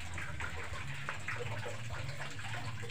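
Water gushes steadily from a canal where children bathe, a constant broadband rush with low churning turbulence that stays close and unbroken throughout.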